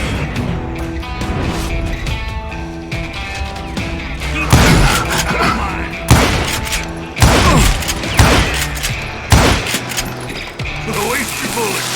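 Bursts of gunfire and clanking gun mechanisms in the Call of Juarez Gunslinger video game, several sharp booming shots spaced irregularly over a busy mechanical background.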